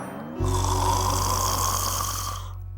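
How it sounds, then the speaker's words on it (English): A cartoon puppy gives one long, loud, buzzing snore that lasts a couple of seconds and then fades out, with no other sound around it. "what a loud snore!"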